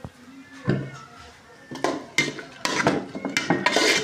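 Spices are stirred into fried onions in a pan, with a series of close metallic scrapes and clanks from the spoon against the pan, irregular and growing busier toward the end.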